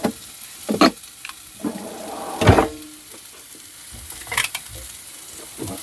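Food sizzles in a pan inside a camper van, with a steady frying hiss broken by several louder bursts of stirring and spattering.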